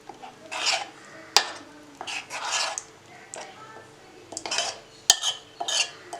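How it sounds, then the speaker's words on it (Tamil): Tamarind water being stirred into fish curry in a microwave dish, with several scraping, clinking spoon strokes coming in short irregular bursts at close range and a couple of sharp taps of utensil on the vessel. "அதை நான் ஊற்றி ஒரு கலக்கிடுறேன்"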